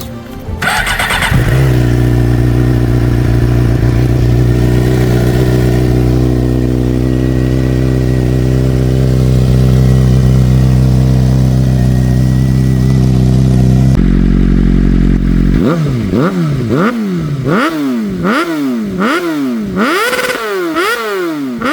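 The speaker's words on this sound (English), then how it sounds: "So let's get this GSXR started up and give you guys some sound checks" A Suzuki GSX-R K7 Isle of Man TT Special motorcycle cranks and fires, settles into a loud, close, steady idle, then rises and falls through a run of sharp, repeated throttle revs with no talking.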